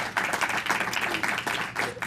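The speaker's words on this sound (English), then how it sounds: "Let's please give him a big round of applause" An audience applauds the honorable mayor at a scholarship program event, a dense, steady burst of many hands clapping that holds at the same strength throughout.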